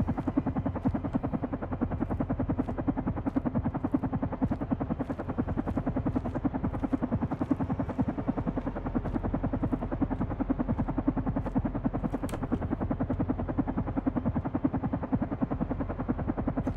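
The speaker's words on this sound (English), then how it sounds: "Helicopter model 859." A helicopter in the video game Carrion thrums continuously with fast, even rotor chops, loud and constant throughout with no talking.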